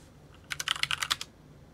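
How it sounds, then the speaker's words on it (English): Rapid keystrokes on a computer keyboard as a command is typed into the Betaflight CLI for an FPV drone flight controller, a close burst of about a dozen clicky taps lasting under a second in a quiet room. "If I go to the CLI and type status"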